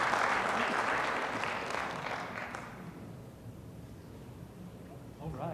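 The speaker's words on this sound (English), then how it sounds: "Let's give them a big round of applause." Applause from a city council meeting audience, full and steady at first, then thinning and fading into room noise with a voice speaking near the end.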